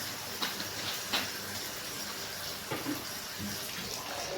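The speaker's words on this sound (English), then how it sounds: "And wash the meat." Steady hiss of tap water running over raw chicken as it is washed after a vinegar rinse, with a few soft splashes and knocks; nobody speaks.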